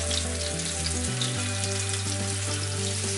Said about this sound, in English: really fry up these pieces well. I'll fry it for another couple minutes.